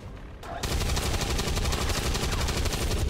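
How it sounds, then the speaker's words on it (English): Rapid automatic gunfire in the X-Com 2 video game blasts at a sectoid, a loud, dense burst of shots running continuously after a brief lead-in. "Okay, so we're just gonna shoot him."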